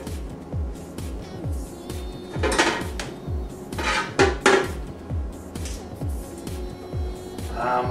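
Onion pieces go into a metal roasting pan, with a run of light rhythmic knocks and clatters of metal cookware and utensils, a few louder scraping clanks in the middle, close and without talk.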